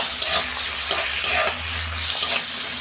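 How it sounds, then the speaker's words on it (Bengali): A spatula scrapes and stirs salted tomato sautéing in a hot pan for a Bengali-style parshe fish dish: close, repeated strokes over a continuous sizzle, with no talking. "2 মিনিট আমি টমেটোটা একটু কষতে নিই, কাঁচা গন্ধটা চলে যাবে।"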